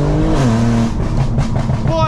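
A BMW M4 with maxed-out exhaust burble tuning rumbles loudly and continuously from inside while driving, deep engine tones shifting in pitch, with crackly pops toward the end.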